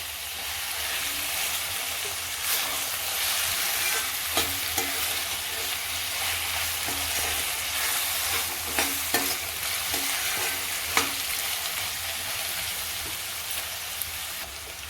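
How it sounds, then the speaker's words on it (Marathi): Onion and tomato frying in a pan for a dried shrimp dish, a steady close sizzle with occasional stirring scrapes and spatula knocks throughout, no voices. "कांदा टोमॅटो चांगलं शिजवून घ्यायचं आपल्याला मऊ होतोपर्यंत"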